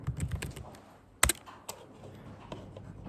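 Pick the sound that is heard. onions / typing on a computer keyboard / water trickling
typing on a computer keyboard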